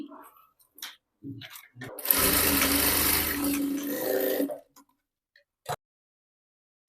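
A tailor's sewing machine stitches a pleat on a long designer blouse in one continuous whirring run of about two seconds, with scattered soft clicks and ticks before and after in an otherwise quiet room.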